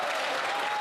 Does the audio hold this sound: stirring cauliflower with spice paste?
no